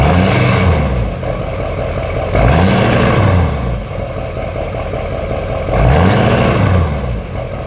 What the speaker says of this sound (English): Chris, go tap on the throttle a little bit for us